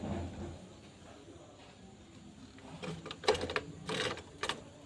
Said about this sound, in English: Now I'm just going to back stitch.